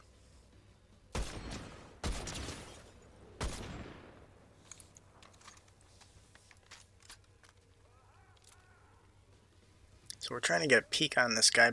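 Gunfire in the video game Fortnite: three loud single shots spaced about a second apart, then quieter scattered pops and a dense burst of rapid fire at the end, with someone talking over it.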